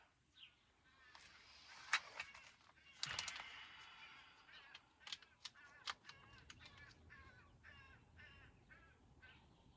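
A loud crow-like bird calls out in a run of harsh, repeated honking caws, some close and some farther off, with a brief low rumble in the middle and a few faint voices in the background.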